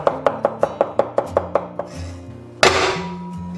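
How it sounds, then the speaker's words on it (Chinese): Knife mincing crushed garlic cloves on a cutting board: a steady run of about ten sharp, close chops, then a louder clattering scrape as the pile is gathered, with no voices. "准备9个大蒜，先拍碎。 然后切成蒜末"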